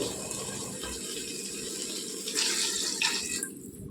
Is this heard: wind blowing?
no